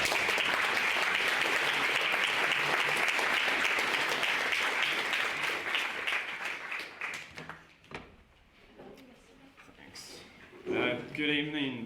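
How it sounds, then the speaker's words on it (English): A debate audience in a formal chamber breaks into loud, sustained applause that fades out after about eight seconds, leaving a few scattered claps before a speaker begins talking. "Please give a huge round of applause to him."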